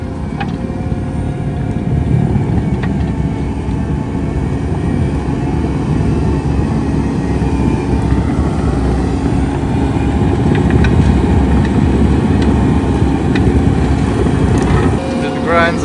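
A CONETEKS 2.13M forestry mulcher grinds brush stumps and matted roots in muddy forest ground, a loud continuous engine roar with rough churning noise that swells slightly midway and never lets up.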